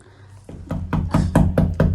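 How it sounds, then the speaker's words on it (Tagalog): Knocking on a house door during a Christmas visit: a quick series of about six firm, evenly spaced knocks, growing louder and close by, with no talking over them. "Ay, katok tabi galit na yan ah."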